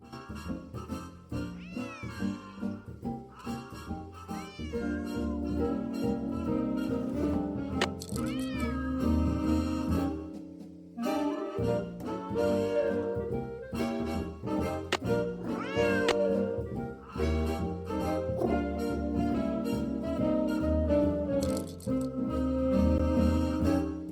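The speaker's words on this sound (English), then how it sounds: "Otherwise, he'll just keep meowing." A cat meows repeatedly in the Nancy Drew: Secret of the Old Clock video game, its cries rising and falling over continuous background music with no talk.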